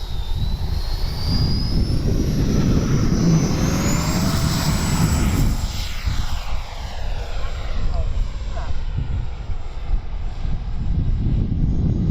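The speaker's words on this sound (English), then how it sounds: "This is a fast, well, not super fast, but very powerful EDF." An FMS 80mm F-86 electric ducted fan RC jet roars past loudly, its high whine sweeping up in pitch and then gliding down as it passes, with a steady rushing fan noise throughout and a voice talking over it.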